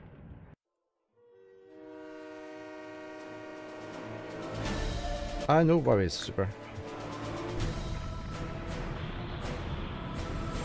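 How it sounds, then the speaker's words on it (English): A train crashes in the Secret Files: Tunguska video game, a horn blaring and wavering over rumbling rail noise that swells and stays loud, after a short gap of silence, with brief speech at the start. "Oh no, the train's crashed."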